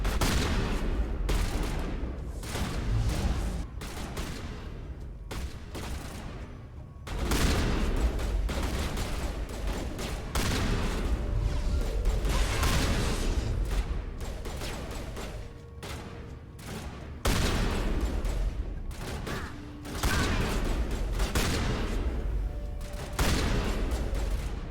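Combat in the Mass Effect video game, with dense, rapid gunfire and repeated shotgun blasts in loud, continuous bursts broken by a few brief pauses, with no talking in between.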